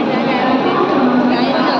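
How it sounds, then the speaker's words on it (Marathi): A train pulls into a busy Mumbai railway station, a steady, loud rumble of rolling wagons and platform noise that fills the whole moment, with people talking over it. "तर आम्हाला पण ट्रेन मिळाली"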